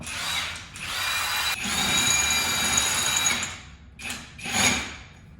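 An impact wrench drives lug nuts on a 1957 Chevy, loud bursts of buzzing rattle that stop and restart, followed by two shorter spurts after a stud snaps.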